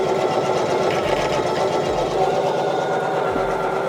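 Embroidery machine stitching a jacket at a speed setting of 500, a steady dense mechanical whir with rapid needle chatter running continuously and close up, with no talk.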